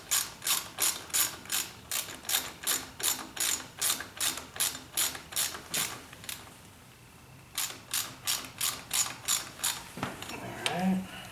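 A hand ratchet clicks in quick, even bursts while bolting down the front fender on a Harley 48 motorcycle, close and loud, pausing briefly before another run of clicks.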